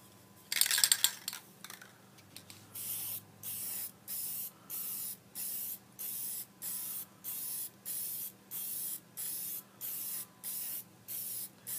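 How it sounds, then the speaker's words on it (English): Aerosol pigment toner sprayed in light misting coats: a dozen short, evenly spaced hissing bursts sound near and steady after a brief clattering rattle at the start. "I'm going to apply the pigmented side now."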